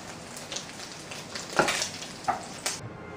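Bacon frying in a home kitchen pan gives soft crackles and sizzles, with a few sharper pops and scrapes near the middle and end before it cuts to near silence.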